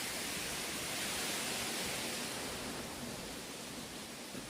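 Jaein Waterfall in Yeoncheon, South Korea, heard as a constant broadband roar of falling water, steady and even throughout with no talk over it.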